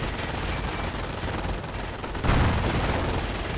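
Video-game .50 caliber machine gun fire rattles in dense continuous bursts amid battlefield noise in a World War II strategy match, growing louder and harsher near the end.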